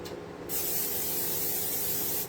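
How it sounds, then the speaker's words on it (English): Pam cooking spray being applied to a pan: one continuous close hiss lasting about two seconds, starting abruptly and stopping cleanly. "We're going to grease this up with some Pam."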